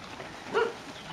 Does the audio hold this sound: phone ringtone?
no